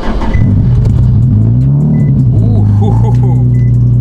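A Nissan 370Z accelerating hard in a 60 mph roll, loud close engine roar with a rising, climbing tone that holds strong throughout, with brief voice sounds in the cabin.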